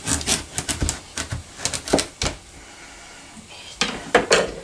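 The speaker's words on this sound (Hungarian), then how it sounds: "Ezt először félbe vágjuk." A knife chops through a baking pumpkin (sütőtök) on a kitchen board, giving a run of sharp, close cutting knocks and clacks, a short pause, then a few more firm strikes.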